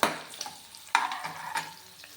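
Chopped green chillies and onion are sautéed and stirred in a pan, with a soft continuous sizzle broken by a few sharp scraping stirs of the spoon, close and moderately quiet, without speech.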